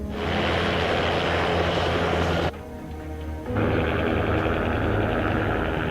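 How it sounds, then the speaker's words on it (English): Loud, close helicopter rotor and engine roar as a sheriff's helicopter lands in a field, dropping off briefly, then returning at full strength. "Spokane County Sheriff's Department landed their helicopter in the field to imitate life flight."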